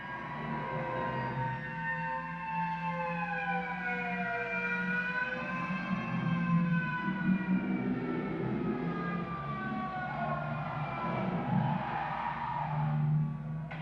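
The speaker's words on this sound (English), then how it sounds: "You could possibly be surprised with all those sirens blasting." Wailing state trooper sirens rise and fall steadily over a low rumble, sounding fairly loud and continuous, with no voices.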